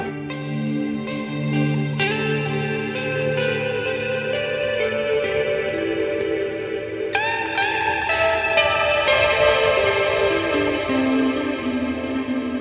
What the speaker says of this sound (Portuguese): Now I'm opening up the reverb.